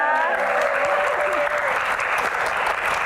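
An audience at a dangdut music Q&A event applauds warmly for a singing trio, sustained dense clapping with a voice trailing off over the start and continuing underneath.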